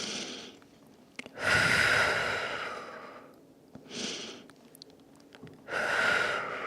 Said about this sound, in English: Just take a couple deep breaths here.